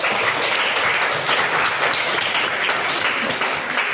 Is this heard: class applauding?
yes